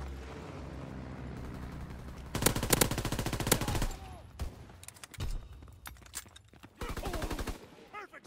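Bursts of machine-gun fire rake down in a strafing run in Call of Duty WW2, several loud rapid rattling volleys separated by brief pauses, with scattered shots and mechanical clatter between them.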